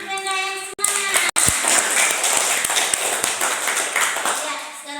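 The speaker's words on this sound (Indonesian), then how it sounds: "Sekali lagi tepuk tangan untuk Benda yang semangat." A class of children claps for a student in a classroom, a dense, steady burst of applause with a few sharp hand taps and faint children's voices mixed in.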